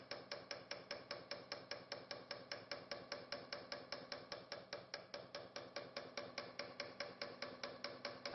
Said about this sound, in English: Engraving into welded iron is harder work than one might expect.